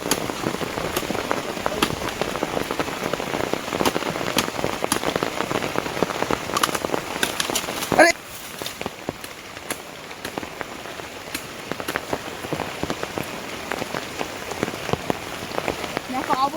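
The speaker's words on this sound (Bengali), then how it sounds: "ভালো বৃষ্টি হচ্ছে কিন্তু দেখেছো" Heavy monsoon rain pours steadily onto a hard surface, flooding a pond, dense pattering and splashing close by, continuing throughout with no voices.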